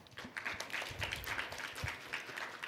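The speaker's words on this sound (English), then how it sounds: "please welcome her once again with a big round of applause" Audience applause welcomes a speaker at a formal regional forum, moderate clapping from a seated crowd that stays fairly quiet and even throughout.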